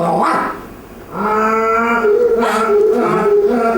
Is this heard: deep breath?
no